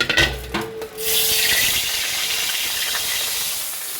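Marinated pork for menudo hits hot oil in a pan with garlic, a few clunks giving way to a loud, steady hiss and sizzle that holds for several seconds.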